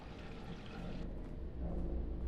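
Steady running water in Fallout 76, a continuous rushing wash that swells slightly louder toward the end, heard alone without talk.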